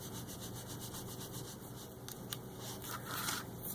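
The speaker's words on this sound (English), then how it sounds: "So I'm just gonna rub off the excess." Excess tape being rubbed off a handmade card, a soft continuous scratchy rubbing close up with a few brief louder scrapes.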